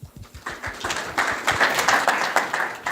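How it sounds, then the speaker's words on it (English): Scattered hand claps quickly swell into a short burst of applause from a conference audience. "Let's give him a round of applause."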